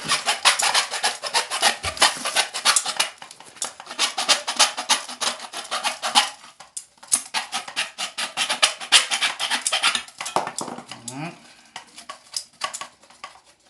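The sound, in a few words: cutting with a hacksaw blade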